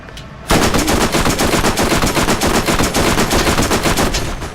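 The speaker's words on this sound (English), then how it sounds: "Bro, those are some curvy bullets." Sustained rapid automatic gunfire from the video game Borderlands, a dense, loud stream of shots bursting in abruptly after a brief quiet moment and continuing steadily to the end.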